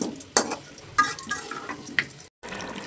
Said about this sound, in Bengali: এদিকে আমি এই যে আলুগুলো হালকা করে ভেজে নিলাম।